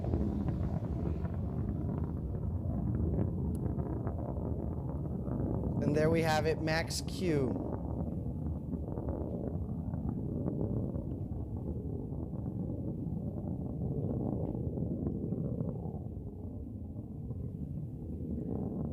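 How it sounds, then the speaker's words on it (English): A Blue Origin BE-3 rocket engine during launch: a deep, continuous rumbling roar fills the whole stretch, steady and loud, with a commentator speaking briefly over it partway through. "we can hear that BE-3 engine just roaring through the sky"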